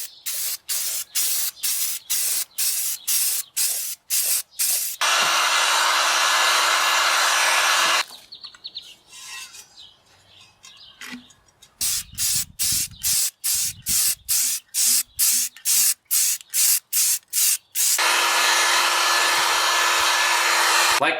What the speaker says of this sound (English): getting our final coat on